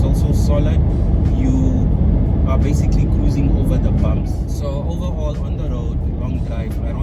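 A Nissan Navara bakkie cruises along a road, its steady engine drone and tyre rumble filling the background while someone talks over it throughout.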